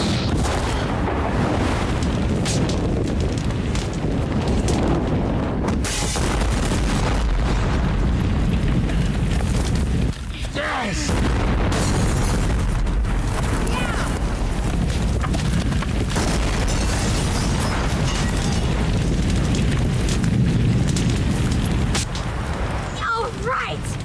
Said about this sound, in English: The house keeps exploding.